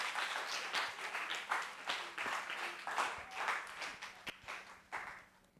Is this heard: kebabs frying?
no